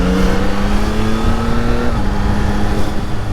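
Yamaha MT-09 motorcycle riding in a sporty automatic mode, a loud, continuous engine drone with a steady pitch that dips slightly near the middle and a constant wind rush, close and alone.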